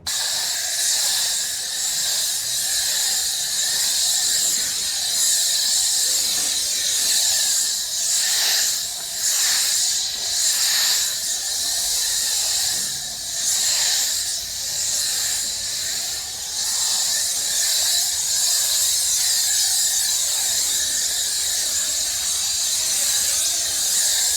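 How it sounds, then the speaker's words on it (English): All-purpose cleaner sprayed over a GMC Yukon Denali: a long, continuous hiss of pressurized spray, loud and close, with slight surges and dips in strength as it sweeps across the body, and no voices. "I like to soak the whole vehicle down with this all-purpose cleaner for efficiency"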